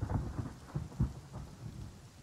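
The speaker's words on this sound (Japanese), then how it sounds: "すごい雷。" Low thunder rolls and rumbles repeatedly over steady rainfall during a storm in the survival video game Rust, heard as a muffled, fairly quiet background with no talk.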